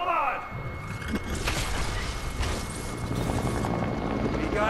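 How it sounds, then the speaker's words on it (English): A helicopter in the video game Fortnite: a loud, steady rotor thrum and whine that fills the whole stretch, with voices faintly present underneath. "We got a helicopter."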